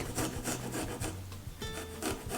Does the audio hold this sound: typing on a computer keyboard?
no